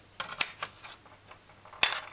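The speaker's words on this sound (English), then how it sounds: "and then cut carrot sticks or carrot flakes." A knife chops carrot sticks on a chopping board, a few sharp irregular clacks and taps, close and fairly loud, with quiet gaps between strokes.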